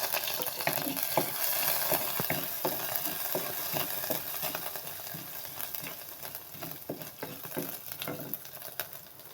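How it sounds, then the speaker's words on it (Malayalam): Green chillies and garlic fry in a pan with a steady close sizzle, broken by frequent crackles, pops and stirring taps throughout. "കാന്താരിയും വെളുത്തുള്ളിയും ഇട്ടു."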